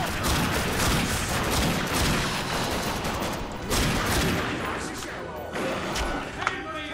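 Dense, continuous gunfire from The Darkness II shooter game, loud and sustained for several seconds with brief dips, a voice talking over it.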